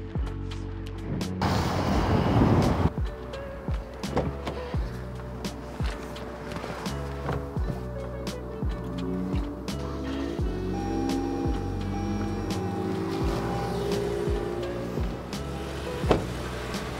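A Toyota car engine starts and idles steadily to give a jump start, a continuous low running hum with scattered clicks and clunks, fairly close and without talk.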